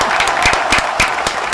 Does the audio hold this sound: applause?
yes